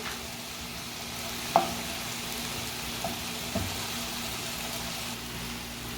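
Chicken breast pieces frying in a pan make a soft, steady sizzle with a few faint ticks and a single clink of a utensil, all fairly quiet and without any talk.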